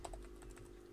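Short burst of typing on a computer keyboard while entering a web address, a quick run of soft, close key clicks alone with no talk.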